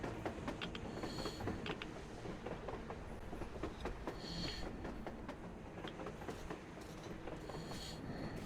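A train moves along in the post-apocalyptic shooter Metro Exodus, its wheels clattering in a steady rhythm over a constant low rumble, with occasional metallic clanks and squeals and no talk.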